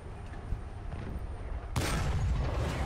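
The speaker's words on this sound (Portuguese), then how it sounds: "Deu um tiro meio burro ali" Tank gunfire in the War Thunder video game: distant rumbling battle noise and muffled thumps, then a sudden loud blast that leaves a broad, sustained roar.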